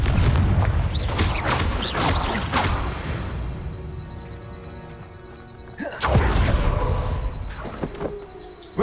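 Fiery Confringo spell blasts in Hogwarts Legacy, a dense run of loud booming impacts and whooshes early on, a quieter lull, then another sharp heavy burst near the end with lingering rumble.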